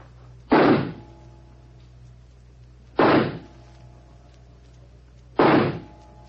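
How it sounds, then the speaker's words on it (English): Three loud revolver shots from a loaded six-bullet revolver at a shooting match in an old-time radio drama, evenly spaced a couple of seconds apart, each a sharp heavy thump with a short tail over quiet room tone. "You take the first 3 shots?"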